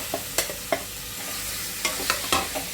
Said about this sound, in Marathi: कमी गॅस करून व्यवस्थित परतून घ्यायचं